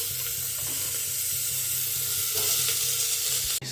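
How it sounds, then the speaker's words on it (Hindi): Ridge gourd pieces hit hot tempering oil in a home kitchen pan, giving a steady, close, bright sizzle of frying, with a short clatter right at the end. "चलो छोंक लगा दूँ तोरी की सब्जी में।"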